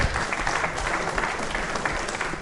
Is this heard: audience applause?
yes